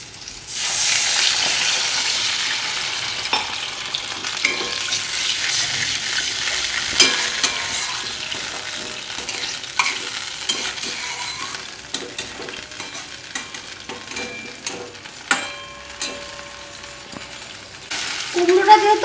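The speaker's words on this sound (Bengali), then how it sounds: "তো আমার কুমড়োটা এবার ভাজা হয়ে গেছে" Pumpkin pieces sizzle loudly in a pan for a hilsa fish dish while a spoon stirs them, with a continuous frying crackle and repeated scraping, clacking strokes close by.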